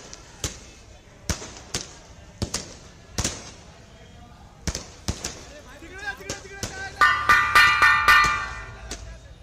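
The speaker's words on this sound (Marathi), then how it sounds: "हा फटाक्यांचा आवाज जनतेपर्यंत पोहोचला पाहिजे." Firecrackers bursting at an election victory celebration by BJP workers in Maharashtra, a series of sharp separate bangs spaced a second or so apart, then a denser burst of crackles and ringing pops near the end, with voices faintly underneath.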